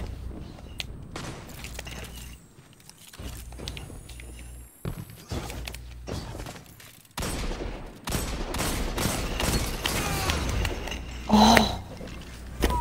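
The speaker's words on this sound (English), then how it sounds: "That's a good hand cannon." Video game gunfire from a hand cannon and a sniper rifle in a one-on-one match, heard as scattered sharp shots and bursts with footsteps and mechanical clicks between them, moderately loud with pauses.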